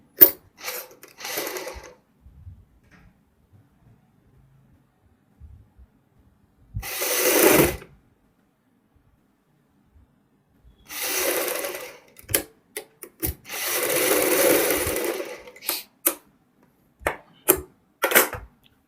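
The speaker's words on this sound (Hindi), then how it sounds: "इसी निशान से हम सिलाई शुरू करेंगे।" Near and alone, a sewing machine stitches a new trendy suit made from an old embroidered one, running in several short whirring bursts of one to two seconds separated by quiet pauses, with scattered clicks of handling between runs.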